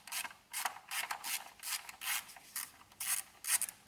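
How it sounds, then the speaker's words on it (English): Hand ratchet with a 10 mm socket taking M6 bolts off a car's fuel system part, a series of quiet raspy ratcheting clicks in short bursts, close up with no talking. "we're gonna grab our 10 mil socket and we're gonna take these 4 bolts off"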